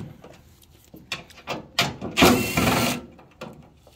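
Impact driver working screws loose from a Ford Ranger tailgate handle, heard as several short mechanical bursts that build to a loud, sustained whir near the middle, then taper off into faint clicks.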